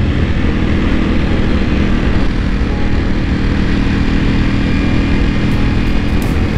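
A Ducati Panigale V4R ridden in sport mode on a mountain pass: a loud, steady engine drone under heavy wind rush, constant and close throughout with no speech.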